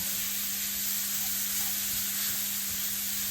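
Finely chopped broccoli sizzles steadily in a hot pan while being stirred, giving a continuous close hiss with faint scraping and a low hum underneath.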